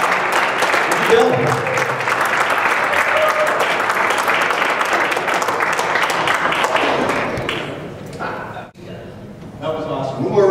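Audience applause at a paranormal symposium marking a 30th anniversary, a dense wash of clapping filling most of the stretch before fading toward the end, with voices mixed in.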